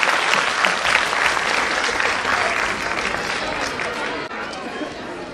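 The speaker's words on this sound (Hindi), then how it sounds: "तालियां बजा दीजिए अपने लिए" Parents and guests at a play-way school's annual function break into loud, dense applause, a continuous roar of clapping that holds steady and tapers slightly toward the end, with faint crowd chatter underneath.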